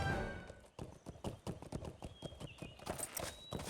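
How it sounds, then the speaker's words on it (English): Horse hooves clip-clop in a steady, rapid rhythm as wild horses move through Lord of the Rings Online, with a few faint higher tones drifting above the hoofbeats. "here you have the wild horses"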